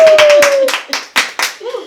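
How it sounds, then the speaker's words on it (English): Audience clapping on a community talk show, a few short bursts of hands coming through under a sustained tone and speech. "We can clap it up."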